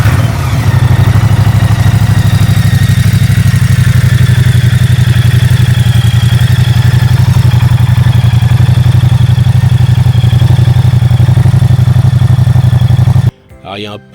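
A Moto Guzzi V100 Mandello motorcycle engine starts and settles into a steady, loud, close idle that holds for about thirteen seconds before cutting off abruptly.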